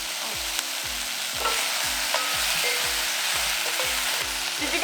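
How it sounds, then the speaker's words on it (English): Sausage frying in a pot for a one-pot rosé sausage and orzo, a steady close sizzle with regular scraping stir strokes repeating about twice a second, no voices. "Let's add in the sausage."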